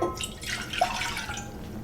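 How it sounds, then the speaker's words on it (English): A cup of water is poured into a pot on the stove for pickling brine, giving a short, faint splash and trickle with a couple of drip-like plinks. "So I'm adding a cup of water"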